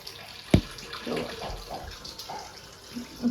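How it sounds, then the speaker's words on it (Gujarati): Water splashes and trickles while a dog is being washed, a sharp splash near the start followed by quieter pouring and dripping close by, with no talk. "હવે પાછું આની પાણી રેડવું પડશે આપણે."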